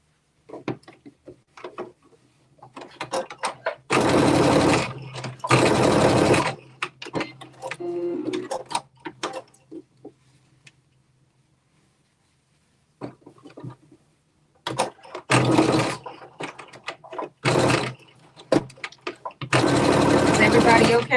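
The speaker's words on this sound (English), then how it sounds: "Just to do some edge stitching and tacking your pocket down." A sewing machine runs in several short bursts while edge stitching and tacking down a garment pocket, each run a loud rapid whir, separated by quieter gaps with handling clicks and a person talking.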